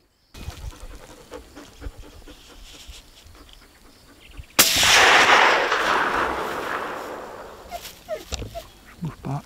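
A single loud rifle shot rings out close by during a summer roe buck hunt in the Gers, France, followed by a long rolling echo, with heavy breathing and murmured talk before and after.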